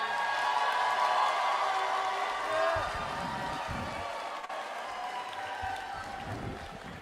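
Crowd at a Disability Services Day gathering at the Capitol applauds a senator; clapping and a few whoops fill the first seconds, then fade under nearby chatter and speech.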